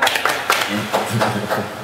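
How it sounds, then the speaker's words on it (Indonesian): Rhythmic hand claps land on the beat of a children's clapping song, sung by a group of voices, with sharp, evenly spaced claps cutting through the singing. "Kalau kau suka hati tepuk tangan."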